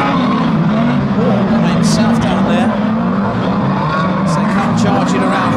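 Ford Granada banger racing cars roar loudly around a track, spinning and racing with squealing tyres and continuous engine noise, under constant excited commentary.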